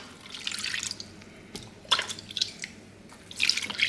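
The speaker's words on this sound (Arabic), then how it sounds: "حنصفي الشربوت." Sudanese sharbot drink being strained, with intermittent drips and splashes of liquid in bursts, fairly close and alone.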